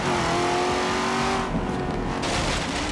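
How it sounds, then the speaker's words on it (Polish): Chevrolet Camaro muscle car in Forza Horizon 3 with a loud, continuous engine roar and rising revs that fade slightly midway, heard alone without talk. "jestem ciekawy jak brzmi, no oczekuję tutaj rasowego dźwięku muscle cara"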